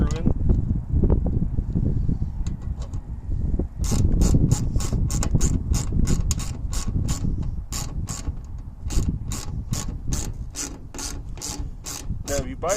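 A ratchet drives in the bottom screw of a new taillight on a family vehicle, clicking in a quick, steady rhythm of close, crisp ticks that pauses briefly before continuing, with a voice talking during the first part.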